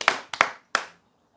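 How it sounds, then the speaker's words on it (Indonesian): A few separate hand claps from a lecture audience, four sharp hits in a quick, loose rhythm that die away into quiet. "tepuk tangan ya."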